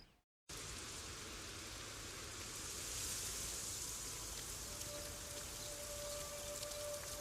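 Torrential rain pours steadily in the African savanna, a dense, loud hiss of drops that continues unbroken after a brief silent gap at the start.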